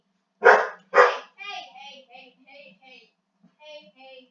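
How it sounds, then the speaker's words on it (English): A pet dog barks twice, sharp and close, and the first bark is the louder. Someone then talks to it. "Hey, stop barking, buddy."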